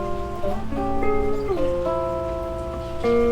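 Guitar playing seventh intervals, pairs of notes on neighbouring strings sounding together in a short series of sustained, clear dyads, close and moderately loud with no talk.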